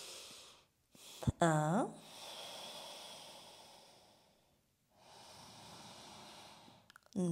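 Slow, deep yoga breaths taken while holding downward dog in an Ashtanga practice: long airy inhales and exhales drawn out over several seconds, close and soft, with a brief spoken word near the start.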